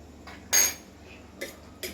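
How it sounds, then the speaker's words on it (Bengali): Eggs with black pepper are beaten in a bowl, heard as a few sharp clinks and taps of utensil against the dish, one loud strike followed by lighter knocks, close up with a quiet pause between. "গোলমরিচ দিয়ে ভালোভাবে ডিমটাকে ফাটাবো"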